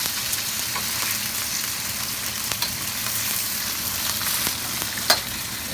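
Steady sizzling of beef stir frying in a hot pan, with occasional scrapes and clinks, no talking.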